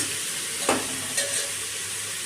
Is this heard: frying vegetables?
yes